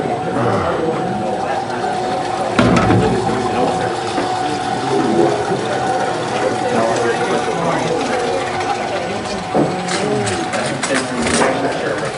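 A kitchen tap runs steadily for a fast rinse while making dairy-free banana cream ice cream, a continuous gushing hiss that fills the whole stretch alongside faint clatter.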